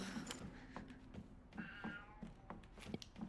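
A pet cat meows repeatedly to be let outside, giving short faint calls in an irregular series, somewhat distant, over a low background.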